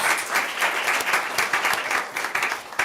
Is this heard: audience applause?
yes